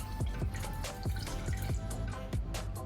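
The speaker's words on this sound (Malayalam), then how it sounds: "ഇതിലോട്ട് ഒരു ഗ്ലാസ് വെള്ളം കൂടെ ഒക്കെ ഒഴിച്ച് കൊടുക്കാം" Water pours and splashes into a pan of jaggery, with bubbling, dripping plinks, close and steady throughout.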